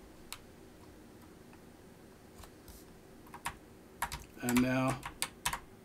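Computer keyboard keys are pressed on an Amstrad CPC setup in scattered light taps that bunch into a quick run near the end, quiet and close under a soft hum, with someone speaking briefly.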